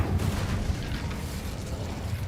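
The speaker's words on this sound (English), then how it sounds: "Alright, we lit the brazier." Incendio spell cast in Hogwarts Legacy to light a brazier, a loud, dense burst of low rumbling fire and whooshing flame that stays heavy and roaring for a couple of seconds, with no talking over it.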